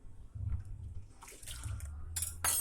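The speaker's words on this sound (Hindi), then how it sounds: "अब हम 1 कप जो है ये जूस लेंगे, इसमें एक कप ही जो है वो पानी का शामिल करेंगे" A cup of water is poured into pomegranate juice, giving a soft trickling splash that swells into a louder, brighter gush of pouring near the end.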